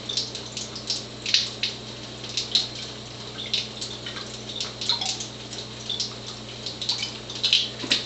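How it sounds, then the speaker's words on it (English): Acidic water pours from an Athena water ionizer into a container, a steady close splashing stream with repeated bright trickling bursts and drips over a low mechanical hum. "I'm going to pour some acidic water too, and then turn this off."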